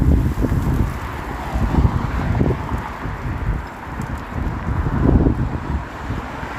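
Wind gusts on a Toronto street walk from Midtown to Downtown in March rumble against the microphone in uneven swells, rising and easing over a steady outdoor background.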